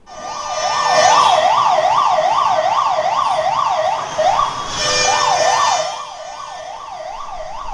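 Fire engine sirens wail at a fire at RTC Cross Roads in Hyderabad, a loud rising-and-falling electronic sweep repeating steadily for several seconds, briefly overlapped by a second siren before the sound fades slightly.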